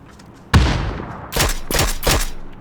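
Gunfire in a battle royale video game, a sharp loud shot followed by a decaying echo, then three more punchy shots in quick succession, each with a booming tail.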